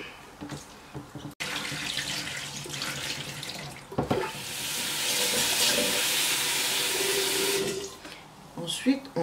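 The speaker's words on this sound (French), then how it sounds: "Alors, je vais aller rincer ça. Je vais rincer." Tap water runs into a sink as food, likely fish and sorrel, is rinsed underneath, a steady close hiss that starts and stops, with brief handling clatter around the flow.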